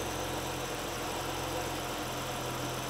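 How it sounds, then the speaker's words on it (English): A car engine idles steadily after an oil change, a continuous low rumble with faint mechanical vibration, heard up close with no voices. "There's the idle coming down."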